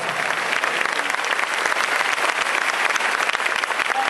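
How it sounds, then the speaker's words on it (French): A church congregation applauds loudly at an evening religious gathering, a steady, dense wash of clapping that holds throughout with no voices on top. "que nous puissions écouter ces forts applaudissements"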